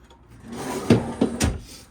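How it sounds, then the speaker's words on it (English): A deep pull-out drawer in the kitchen of a used 2016 Heartland Bighorn 3270RS fifth wheel RV, sliding and thudding shut in a few close knocks and clunks, no talk. "Another one of the deep pull-out drawers."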